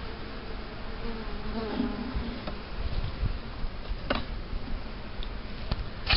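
Honeybees buzzing inside a queenless hive, a close, dense, continuous hum with a few light ticks and knocks from frame handling, and no talking.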